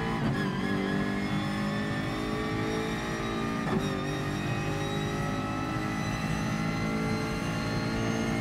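A Renault Megane race car in Gran Turismo Sport, its engine a loud, sustained high-revving drone with shifting pitch, overlaid by another car's engine as it closes in and passes.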